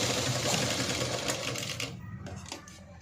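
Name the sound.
sewing machine stitching a blouse back neck hanging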